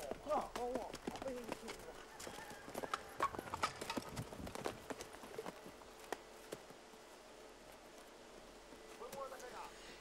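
Horse hooves clip-clop in an uneven, steady walking rhythm at moderate distance on Ua Huka in the Marquesas, with faint voices in the background as a young horse is broken in.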